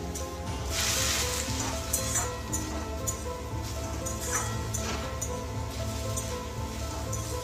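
Onions sizzle steadily in a hot pan while being cooked down for a chicken chop filling, with soft stirring clicks and crackles close by and no voices.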